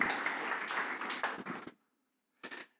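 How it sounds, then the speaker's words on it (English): A church congregation breaks into dense applause that runs steadily for under two seconds, stops into silence, then a short second burst follows. "Let's give these folks a round of applause"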